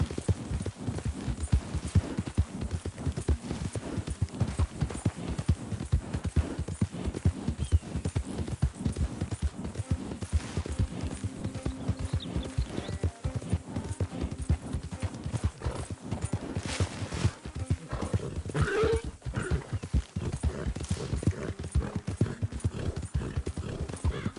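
Horse hooves galloping in the Red Dead Redemption 2 video game, a fast continuous rhythmic thudding of hoofbeats with occasional snorts and whinnies, steady and close throughout.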